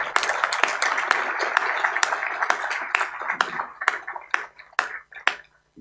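Audience applause at an awards ceremony, a crowd clapping steadily for several seconds with dense overlapping claps, a few sharper individual claps standing out as it thins toward the end.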